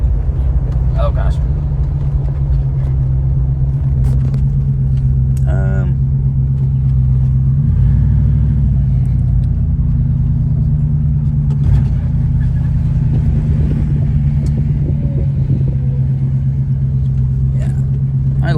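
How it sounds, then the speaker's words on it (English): Steady low engine drone and rumble from a white Jeep Grand Cherokee driving down a road, heard from inside the cabin, loud and continuous with slight swells, while people talk over it. "we got a white Grand Cherokee just booking it down the freaking road"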